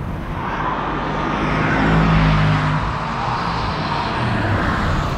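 Bentley GTC convertible weighing 5,313 pounds, running fast downhill on P0 tires, with a steady loud engine drone and rushing road and wind noise that swells slightly midway.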